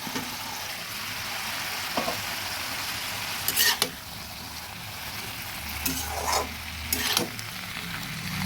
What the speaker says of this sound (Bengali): ভালোভাবে মিশিয়ে দিচ্ছি।